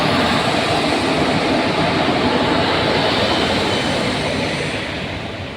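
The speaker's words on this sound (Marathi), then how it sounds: "तर हे बघा आलेली आहे ट्रेन." A passenger train pulls into a railway station on a trip to Kolhapur. Its loud, steady rumble and rolling wheel noise fill the space up close, then ease off slightly toward the end.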